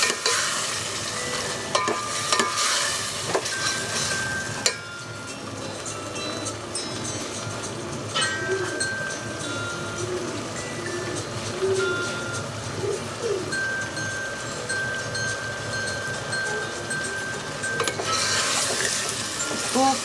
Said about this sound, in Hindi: तो थोड़ा सा भून लीजिए।